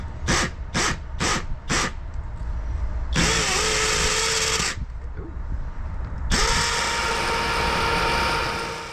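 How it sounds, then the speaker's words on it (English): Hammer drill boring a hole for an anchor bolt on porch steps, a few short trigger blips followed by two long, loud grinding bursts separated by a brief pause. "So I can get the hammer drill out. And let's see if I can drill a hole for that anchor bolt."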